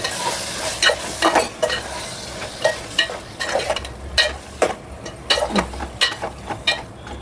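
Two green chillies and chili powder are stirred into a sizzling chicken curry, with repeated rhythmic scraping strokes of a spoon in the pan over a steady frying hiss.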